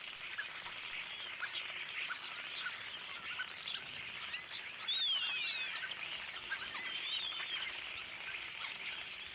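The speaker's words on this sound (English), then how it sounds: "Lundy's rooftops and walls are often decorated by a big flock of starlings" A big flock of starlings on Lundy, a Bristol Channel island, keeps up a dense, steady chatter of high chirps and whistles at moderate distance, with a slightly louder burst midway and no talk.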